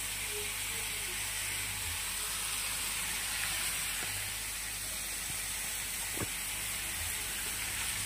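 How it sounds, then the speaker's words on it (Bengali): Chilli chicken with garam masala fries in a pan, giving a steady soft sizzle and hiss with occasional faint clicks of stirring, fairly quiet and without talk. "এটাকে ভালো করে নাড়াচাড়া করে যতক্ষণ এটা ভালোভাবে হয় নাই ততক্ষণ ধরে নাড়তে থাকবো"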